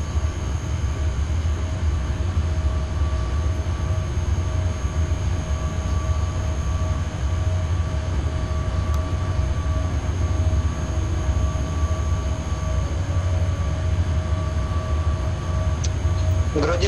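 A train runs steadily in the SimRail railway simulator on a fast passenger service led by a Traxx locomotive, a constant loud rolling rumble with a faint whine and no breaks.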